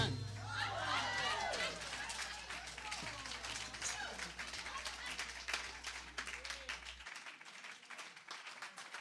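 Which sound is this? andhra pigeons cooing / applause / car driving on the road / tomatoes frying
applause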